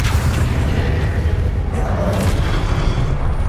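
A Confringo blasting spell explodes in the Hogwarts Legacy video game, a dense, loud, continuous boom with heavy low rumble sustained throughout without letup.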